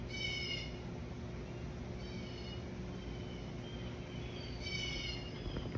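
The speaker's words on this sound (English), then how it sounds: "The kitty cat coming in to join us." A cat meows three times, with a short call at the start, a softer one in the middle and another near the end, each fairly faint over a steady low room hum.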